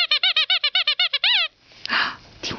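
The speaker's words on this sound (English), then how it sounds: "Do you want your squeaky?" Close, loud squeaky toy pumped rapidly about ten times in an even rhythm, ending with a longer squeal, followed by faint shuffling, as six-week-old puppies play with it.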